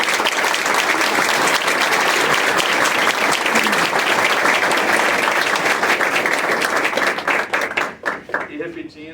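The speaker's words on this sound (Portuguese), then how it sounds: "Eu queria uma salva de palmas para todos vocês." Audience applause fills a lecture hall on productivity and prototyping, dense steady clapping from many hands that holds loud for most of the span, then thins into scattered claps as it fades near the end.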